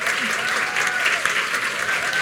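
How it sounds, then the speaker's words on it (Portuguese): An audience at a talk-and-literature event applauds a speaker named Débora with loud, sustained clapping from many hands, while faint voices and a few whistles or cheers rise over it. "Palmas para a Débora."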